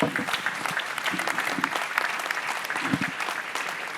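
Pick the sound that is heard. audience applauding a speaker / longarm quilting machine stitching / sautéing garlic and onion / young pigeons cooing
audience applauding a speaker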